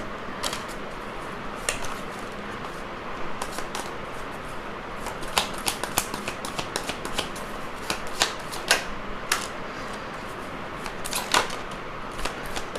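Tarot cards being shuffled by hand, giving a run of crisp, papery riffles and snaps that come in irregular bursts at close range over a quiet room, with no talking.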